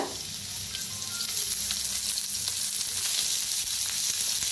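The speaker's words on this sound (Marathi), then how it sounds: "मिक्स करून आणि भाजून घेऊया कांदा" Onion sizzling in hot oil in a pan, frying for an eggplant and potato curry, a steady dense crackle throughout with slight stirring, close and continuous with no voices.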